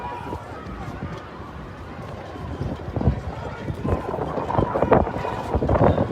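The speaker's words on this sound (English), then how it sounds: "Here comes the wind, like Spencer." Wind gusting at an outdoor street protest, a rough, buffeting rumble growing stronger toward the end, mixed with distant crowd noise and a voice talking.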